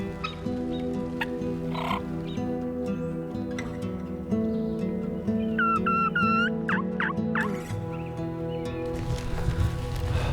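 Wild turkeys gobble during a Minnesota spring hunt, several rattling calls rising at mid-distance over an outdoor background hum, with no talk.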